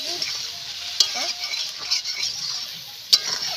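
Kochur loti (taro stolons) fry with mustard paste and ground spices as a utensil stirs them in a pan: a soft sizzle with scraping and a few sharp metallic clinks against the pot.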